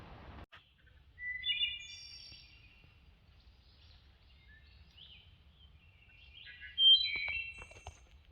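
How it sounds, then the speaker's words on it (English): Flute-like wood thrush song phrases ring out at a distance near a river, separated by quiet pauses, over a faint low background hum. "The wood thrush"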